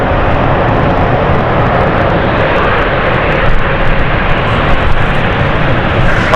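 An airliner powers down the runway at London City Airport on a stormy night, a loud, continuous broadband engine roar that stays steady and close throughout, with no voices.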